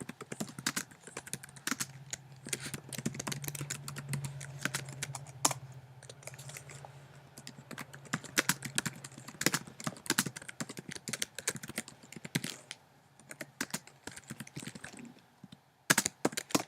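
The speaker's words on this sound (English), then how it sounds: "So I'm going to be typing in the code" Rapid, irregular clicking of keys on a computer keyboard, continuing steadily for a long stretch, close and moderately loud with a low hum beneath.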